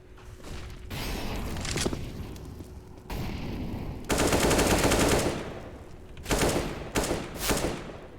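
Rapid bursts of tapping gunfire in a Counter-Strike style match, with several loud volleys of shots separated by short pauses and a final cluster of quick single shots, no talk over them.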